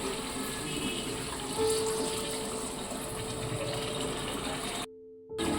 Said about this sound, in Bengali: এবার এর মধ্যে অল্প পরিমাণ জল দিয়ে দিতে হবে যতক্ষণ না চিকেন এবং আলুটা সেদ্ধ হয়ে যায়